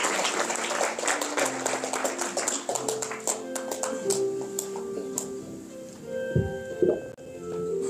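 A crowd at a 50th anniversary ceremony claps steadily for several seconds, the applause thinning toward the end, with a few faint voices underneath.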